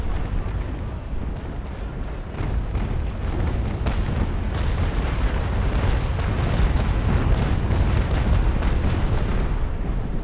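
Cannons fire chain shot during a naval port battle in a video game, a dense, continuous barrage of overlapping booms and blasts that rumbles without pause from start to finish.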